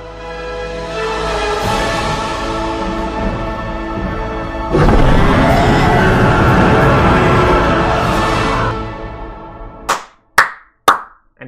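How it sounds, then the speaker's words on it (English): Loud, fast hand clapping from a single person, close to the mic, continues steadily for about ten seconds. It ends in a few sharp, separate final claps. "I need to stop clapping so loudly."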